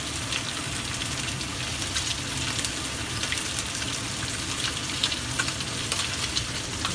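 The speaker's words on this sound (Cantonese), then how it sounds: "我哋咁煎一煎，就唔使俾咁多油嘅，因為啲湯唔想咁肥" Red fish pan-frying in a wok with only a little oil, being browned for a pumpkin soup, gives a steady, close, continuous sizzle and crackle with no voices.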